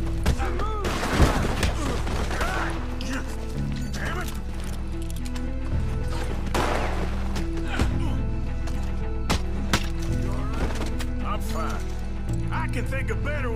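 Gunfire in Red Dead Redemption 2, shots crackling over a dense bed of game music and mechanical clatter, with someone talking over the action.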